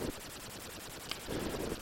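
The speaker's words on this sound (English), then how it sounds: "of muffled explosions." Muffled explosion effects from the C64 game Hellfire: two dull, low bursts, one at the start and a longer one near the end, over a steady buzzing background with no talk.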